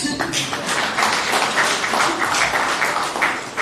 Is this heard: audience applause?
yes